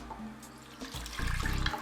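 Water runs from a tap into the bowl of a stand mixer holding flour, sourdough starter, eggs and milk for Windsor bread, a steady close splashing stream that grows louder and more gurgling toward the end.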